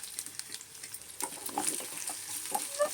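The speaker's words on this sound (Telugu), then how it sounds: "ఇదిగోండి వెల్లుల్లిపాయ చక్కగా వేగుతుంది." Garlic, cumin, mustard seeds and dried chilies fry in a pan for tempering, giving a soft continuous sizzle broken by light crackles, pops and spoon stirring, with no talk.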